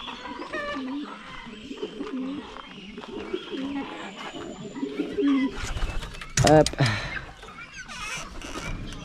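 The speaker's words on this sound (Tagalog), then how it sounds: "Palabasin naman natin yung ating mga kalapati dito." Pigeons coo softly with people talking nearby, then a sudden flurry of wing flapping rises up close.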